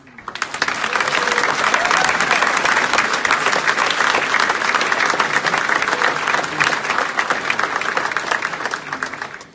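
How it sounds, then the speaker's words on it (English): A large conference audience breaks into loud, sustained applause for the opening general session of Engage 2018, a dense wall of clapping that holds steady for about nine seconds before fading at the end. "I think it deserves a big round of applause"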